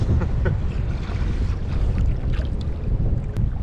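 Steady wind buffeting the microphone over choppy sea swell on a cold day while kayak fishing off the UK coast, a continuous low rumbling roar with water slapping, close and loud throughout.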